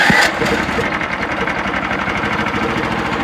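A Frontier OS27 sawmill engine, just started on choke, runs at a steady, loud, rough idle with a continuous throbbing rumble throughout.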